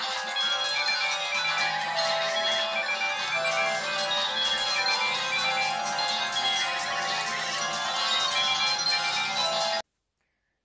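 A T3000 Chinese mobile phone plays a bright electronic ringtone melody, loud and continuous for nearly ten seconds before cutting off abruptly into silence.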